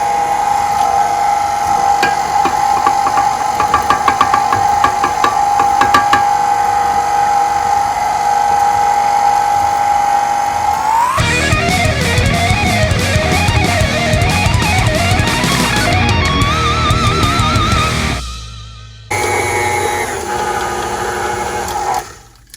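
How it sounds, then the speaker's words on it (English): An electric hand mixer beats strawberry cupcake batter with flour, a loud steady whirring drone that shifts to a rougher, churning tone midway, briefly cuts out, then resumes, close and alone. "then I'm going to beat it a little bit longer until everything's mixed together"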